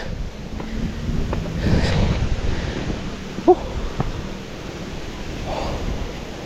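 Strong wind blows outdoors at a roadside work site, a continuous rushing buffet across the microphone with gusty swells and a few small knocks.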